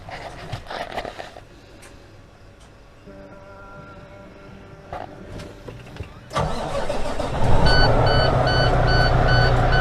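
A lease-purchase truck's engine cranks and catches, then settles into a loud, steady rumbling idle from close by. Repeated electronic beeping starts alongside it, and a short burst of talk comes before the start.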